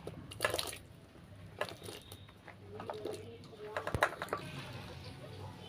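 Cut square pieces of bottle gourd are washed in water in a home kitchen, giving faint splashing, dripping and clattering sounds in scattered bursts, quiet throughout.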